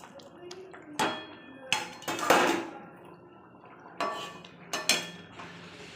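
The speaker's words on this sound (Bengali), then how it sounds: "আমি দিয়ে দেব ভেজে রাখা মাছ আর বেগুন।" Fried fish and eggplant go into a pot of thin hilsa curry with taro, several sharp clinks and clattering knocks of pieces and utensils against the pot at close range, spaced over quiet kitchen background.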